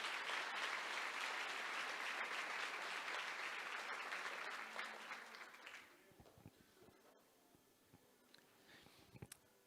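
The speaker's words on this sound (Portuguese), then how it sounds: "Você pode aplaudir, glorificar o nome do Senhor." A congregation at a Portuguese-language church service claps in a full, sustained round of applause that thins out after about five seconds, leaving a few scattered claps and quiet room noise.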